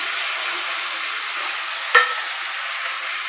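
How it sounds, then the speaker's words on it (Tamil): Ginger garlic paste sizzles with sautéed onions in a pan, a steady close-up hiss of frying broken once by a brief clink of a utensil midway. "நல்லா வதங்கிடுச்சு இப்போ வந்து இதில் நம்ம இஞ்சி பூண்டு சேர்த்துக்கலாம்"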